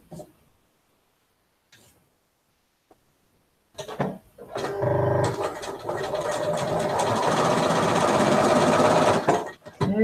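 A sewing machine stitches quilt fabric in a fast, steady mechanical whir lasting about five seconds, preceded by a few quiet handling knocks and ending with a short clunk.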